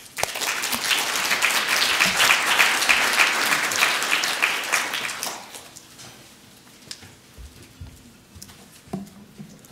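Audience applause welcoming speakers onto a city studies panel, loud sustained clapping from a crowd for about five seconds, then fading into scattered claps and room noise.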